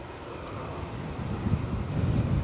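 Gusty wind buffets the microphone at Edinburgh Airport in a steady low rumble that swells and strengthens toward the end, with no voices.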